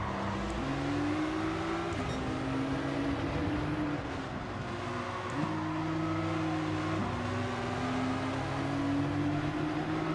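Race cars in a Gran Turismo Nations Cup race, among them a Nissan GT-R, drone with loud continuous engine tones that rise and drop with gear changes, a constant racing roar with no talk.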